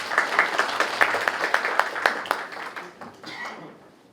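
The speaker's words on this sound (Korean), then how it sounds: "큰 박수 부탁드리겠습니다" A room of teachers at an education office training session applauds to welcome the lecturer, a soft wash of many hands with some sharper claps near the front, fading out over a few seconds.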